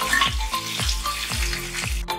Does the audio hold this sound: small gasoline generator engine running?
no